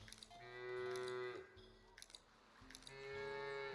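Cows on a dairy farm in the video game Foundation let out long, loud moos, two drawn-out calls separated by a short pause, with faint keyboard clicks between them.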